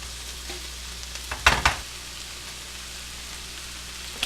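Onions, garlic and ginger fry in a pan with a soft, steady sizzle, broken once by a short clatter of stirring near the middle.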